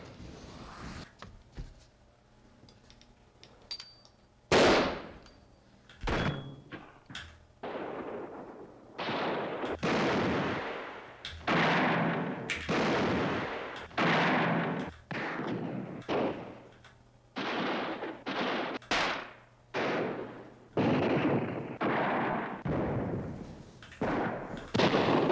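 Repeated Winchester gunshot sound effects, loud sharp cracks with reverberant tails, fired singly at irregular intervals, some in quick pairs, with no talking.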